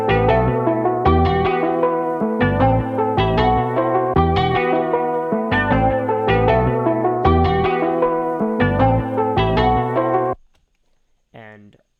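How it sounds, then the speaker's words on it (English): A plain, dry bass guitar plays a steady, repeating riff of rhythmic notes, then stops briefly before a short final note. "how originally that bass sounds without the effects that I added into it"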